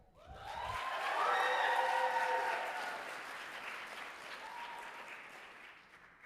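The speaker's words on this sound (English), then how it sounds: "can we please make a huge round of applause for Shake Down the Thunder?" A crowd applauds an Irish dance club number at a Notre Dame and Saint Mary's showcase, clapping swelling quickly to a full, steady round and then slowly tapering off.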